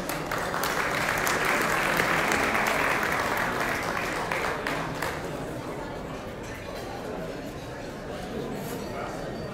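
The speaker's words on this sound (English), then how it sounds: "Let us welcome and give another warm round of applause to all our new members" A crowd at an indoor program gives a warm, sustained round of applause for its new members, a dense and even roar of clapping that swells early and tapers slightly toward the end.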